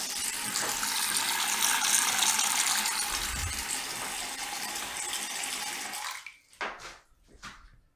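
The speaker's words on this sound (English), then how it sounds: "You see the water is not draining well, not at all." Water runs steadily into a clogged bathroom sink, a continuous rushing, gurgling wash for about six seconds before the flow stops and a few short splashes and drips follow.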